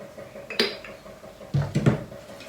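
A fork clinks against a bowl in a few quick, close knocks while eggs are beaten for a bread omelette, with quiet pauses between the strikes and no talking.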